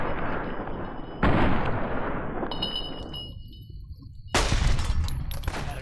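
Gunshots from a .357 Magnum revolver in the video game Fallout New Vegas: two loud, sharp reports, each followed by a long rumbling echo, with faint game sounds in between.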